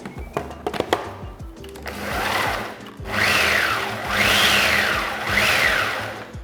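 A food processor pulses biscuit crumbs and butter: after some clatter, three separate motor bursts each whir up and wind down, loud and close.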